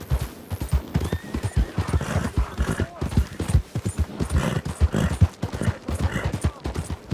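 Game horse from Red Dead Online neighing and whinnying over steady, close hoof clip-clop, with scattered gunfire-like bursts; someone speaks in the background.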